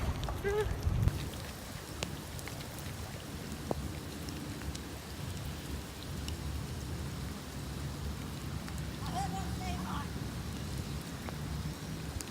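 Outdoor rain patters in a steady wash of drops, with scattered louder hits and soft thumps, while people talk faintly in the background.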